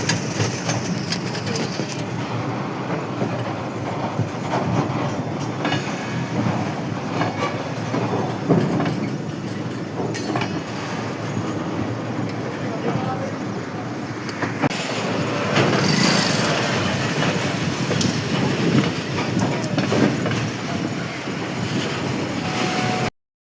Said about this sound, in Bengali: তো ওদিকে যাওয়ার সময় ট্রেন যাচ্ছে, রেল গেট পড়ে গেছে।